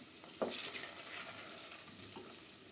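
Kavurma meat frying in its own rendered fat in a pot, a steady close hiss and sizzle with a couple of brief louder spits and clatters, no voices.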